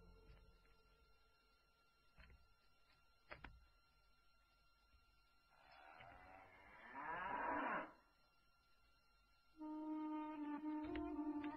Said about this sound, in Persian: این آخرین گاومون است.